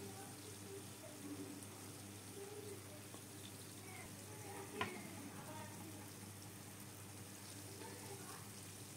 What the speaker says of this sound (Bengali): এই যে তেলের ভিতর সব ছেড়ে দিচ্ছি, এগুলো সব আস্তে আস্তে ভেসে ভেসে উঠছে